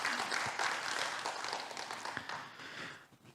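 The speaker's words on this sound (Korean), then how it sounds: "다시 한번 우리 헬레나 노르베리 호지 대표님께 큰 박수 한번 보내주시면 감사하겠습니다." Conference audience applauding at an opening ceremony, moderately faint clapping that thins and fades toward the end.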